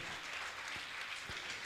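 An audience gives steady, continuous applause to honour donors at a religious gathering, a dense even clapping heard from a distance without talk.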